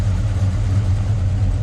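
A 1972 Buick Skylark GS replica engine idles with a low, steady, loping rumble, close by, with no talking.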